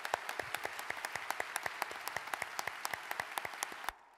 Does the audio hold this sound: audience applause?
yes